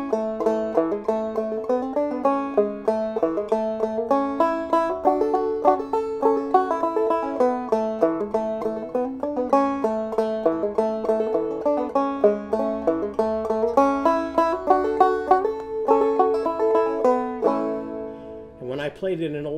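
Old-time banjo played by striking the strings with the fingernail and plucking with the thumb, a bright, rhythmic string-band tune with steady bouncing strums and quick plucked notes, alone and close.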